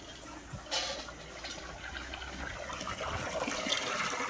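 Water from a solar-powered water pump pours out in a steady rushing stream, with brief splashy surges along the way and no voices.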